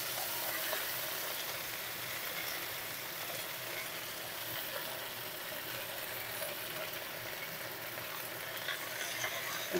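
Kharkol leaves tossed into hot oil with black cumin, dried and green chillies, giving a faint, steady sizzle and soft stirring scrapes with no talk, quiet and continuous throughout.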